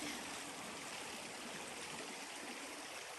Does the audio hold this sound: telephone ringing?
no